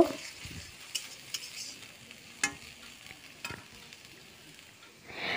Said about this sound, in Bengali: দিয়ে দেব হচ্ছে রসুন আর আদা বাটাটা, দিয়ে ভালো করে নেড়ে চেড়ে মিশিয়ে নেব